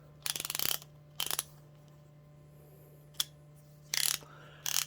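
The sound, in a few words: Cornwell 1/2 inch ratchet clicking after light oiling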